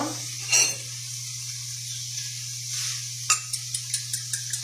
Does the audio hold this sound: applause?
no